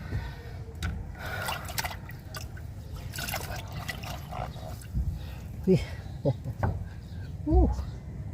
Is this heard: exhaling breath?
no